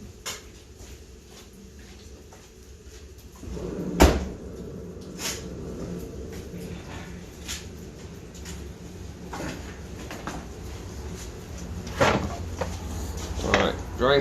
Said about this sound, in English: Hold on, I gotta shut my door.